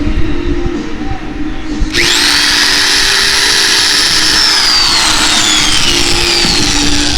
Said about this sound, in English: Now watch, I'll drill a hole.